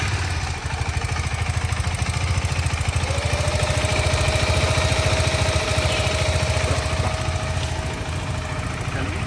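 A KTM ADV 390 motorcycle engine idles steadily with a fast, even ticking tappet noise throughout, close and fairly loud, with a faint whine rising partway through.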